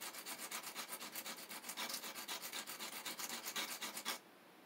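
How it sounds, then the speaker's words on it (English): Sandpaper rubbed back and forth on the metal terminal of a fuse block in an electronics workshop, brisk rhythmic scratching strokes, close and loud, stopping abruptly near the end. "I'm going to sand the terminal because the plating doesn't really take the solder very well"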